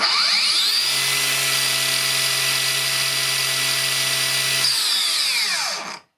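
A Makita 40V angle grinder runs free at full speed, a loud steady high-pitched whine with a low hum underneath, holding for about five seconds before spinning down to silence.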